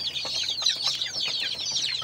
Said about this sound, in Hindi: तो हमारी ये दूसरी देसी मुर्गी है और देसी मुर्गा भी है हमारे पास